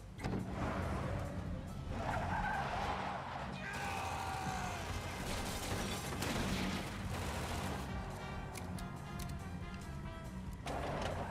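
Car braking and tires skidding in an animated film, with a long screech under dense action music and shouting voices, loud and continuous throughout.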